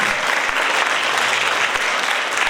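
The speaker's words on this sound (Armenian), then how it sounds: "այո, ճիշտ եք անում, ծափահարություններով" A crowd at an international folk dance festival concert applauds, a loud, dense, steady wash of clapping filling the whole moment without a break.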